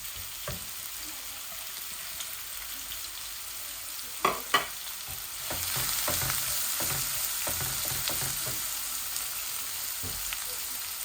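Medium onion sizzling in hot oil for a Bengali tilapia curry, a steady crackling fry that swells louder midway, with a few sharp utensil knocks and stirring scrapes close by.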